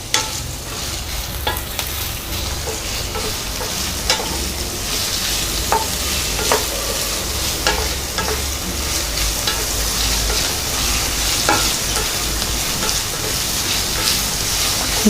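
Sliced big onions, green chillies and curry leaves fry in oil for mutton varuval, a dense continuous sizzle with crackling pops and occasional clinks of a stirring spoon against the pan.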